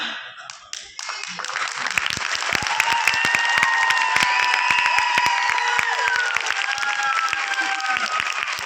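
A crowd at a corporate launch event in a Delhi five-star hotel breaks into clapping after a brief quiet start, building quickly into sustained loud applause with crisp individual claps and some cheering, holding steady to the end.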